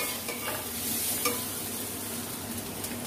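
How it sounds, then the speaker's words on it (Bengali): Sugar being stirred and fried in a pan for a bitter gourd and potato curry, a steady close sizzle with soft scraping stirs running throughout, no voices. "চিনিটা আরো একটু ভাজা ভাজা করে নিচ্ছি।"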